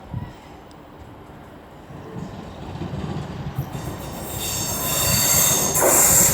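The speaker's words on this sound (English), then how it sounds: "now coming in is the 12:34 East Midlands Railway service to Matlock from Nottingham" An East Midlands Railway Class 156 diesel train arriving at Derby station, rumbling in with rising wheel noise and a high metallic squeal that grows louder toward the end.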